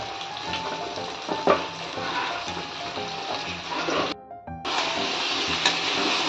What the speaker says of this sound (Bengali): এই সময়তে সজনার ডাঁটাগুলো দিয়ে দিচ্ছি।